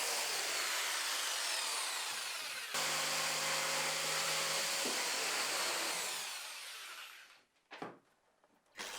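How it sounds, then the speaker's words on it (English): A jigsaw cuts along marked lines to remove a wooden cutout in a garage workshop, a loud steady buzzing drone for about seven seconds that shifts pitch partway, then stops, leaving a few faint clicks and handling noises. "Then removing the rest of the cutout with my jigsaw by tracing the marked cut lines."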